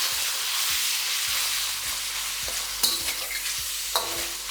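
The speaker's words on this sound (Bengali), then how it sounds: "তেলটা একটু গরম হয়ে গেলেই ম্যারিনেট করা চিকেনটা আমি এখানে দিয়ে দেবো। তারপর ফ্লেমটাকে হাই করে এটাকে ভালো করে কুক করে নেব।" Marinated chicken sizzles in hot oil in a Chinese wok over high flame for a broccoli stir-fry, a constant hiss broken by periodic scrapes and clinks of a spatula stirring.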